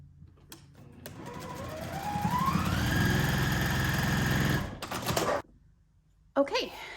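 A domestic sewing machine runs steadily for a few seconds, stitching a fabric seam on a ghost-shaped sewing project, with a rising whine as it speeds up, then stops. A brief burst of handling noise follows.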